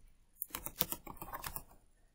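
Quick bursts of keystrokes on a computer keyboard while a file is renamed, a short close flurry of clicky taps lasting under two seconds, fairly quiet.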